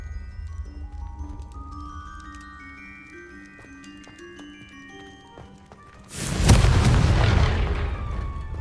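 A Confringo blasting spell in the video game Hogwarts Legacy erupts in a single loud, booming explosion that rumbles on for a couple of seconds after quieter ambient tones.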